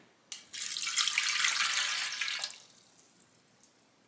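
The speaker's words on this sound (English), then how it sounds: "So I'm going to put in the warm water." Warm water pours into the pan of a KBS bread machine, a bright, steady splashing stream for about two seconds that starts abruptly, then stops, leaving a few faint drips and one last small splash.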